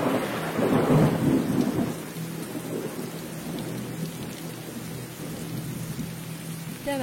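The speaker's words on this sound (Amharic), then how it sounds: "አሁን አደገኛ ዝናብ እየዘነበ ስለሆነ" Heavy rain pours steadily over a deep, rolling thunder rumble that swells early and then fades into a continuous wash of rainfall, with no voices.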